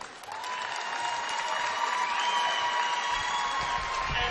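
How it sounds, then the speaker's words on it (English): Steady applause from a crowd at a high school basketball game hall of fame ceremony, clapping evenly throughout with a faint tonal hum underneath, moderately distant. "one last round of applause for our 3 inductees"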